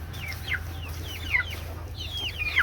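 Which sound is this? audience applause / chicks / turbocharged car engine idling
chicks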